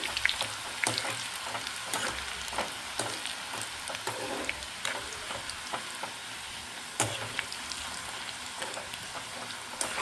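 Street-style onion samosa pieces deep frying in hot oil, giving a steady, dense crackling sizzle with scattered sharp pops throughout, close and continuous with no voices.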